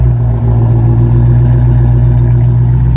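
A Dodge Challenger R/T engine idles loud and deep up close, a constant throaty rumble with no talking.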